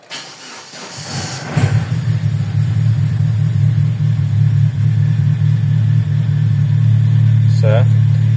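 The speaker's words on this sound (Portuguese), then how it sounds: "Vamos ligar o carro aqui para vocês verem." A Chevrolet Astra hatchback engine cranks and catches, then settles into a steady, loud low idle rumble that holds to the end, with someone speaking briefly over it at the start and close to the end.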